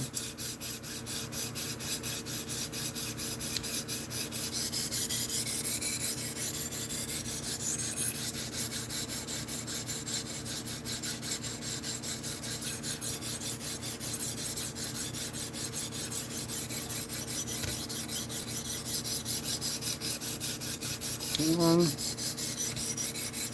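A knife is drawn across a 220 grit sharpening stone in even, steady rasping strokes. The scraping is quiet, close and continuous, with no talk.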